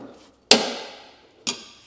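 A hanger removal tool popping a rubber exhaust hanger off a VW Scirocco: two sharp metallic snaps about a second apart, the first ringing out longer, close up in a quiet workshop.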